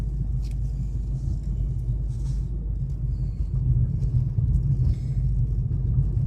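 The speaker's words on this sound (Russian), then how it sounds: "Сколько машин." Many cars and construction machinery on a mountain road at a building site near the Arkhyz resort, heard as a continuous low rumble of engines and traffic, steady and fairly loud, with no talking.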